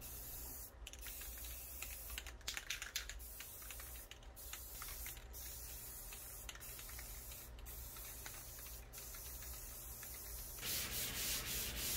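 Quiet, steady rubbing and scratching of a 400 grit sanding sponge over a painted dresser, with occasional sharper ticks and scuffs throughout; no voices.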